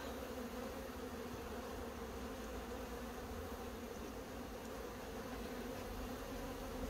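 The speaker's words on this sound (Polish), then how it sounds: "Pszczół jest dużo." Dense, steady hum of many honeybees swarming over a strong colony in an open hive, a continuous close buzz with no talking.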